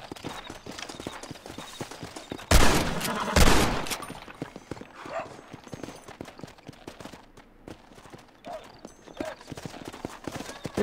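Horse hooves clip-clop through Red Dead Redemption gameplay at Thieves' Landing, broken by two loud bursts of gunfire early on, then steady galloping with scattered shots and faint game ambience.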